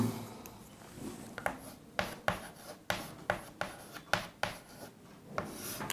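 Hand-writing a math formula with pen on paper, a series of quiet, close scratchy strokes in uneven bursts with short pauses between, no voices present.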